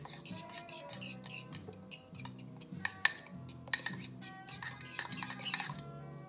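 A utensil clinks and scrapes in a dish while hot microwaved eggs are stirred, a quick run of light metallic taps and chinks, close and fairly quiet.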